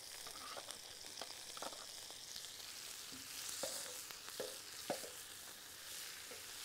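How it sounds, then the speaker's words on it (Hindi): Ginger garlic paste fries with onions in a pan with a soft, steady sizzle and occasional stirring scrapes and clinks, quiet and close. "तो इसको भी फ्राई कर लेते हैं।"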